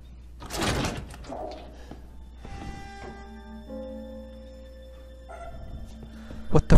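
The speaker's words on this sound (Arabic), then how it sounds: "الحين بدي افتح الباب" A door opening in the survival horror game Resident Evil 7, a heavy clunk followed by creaking, scraping movement and lingering resonant tones, ending with a sharp knock.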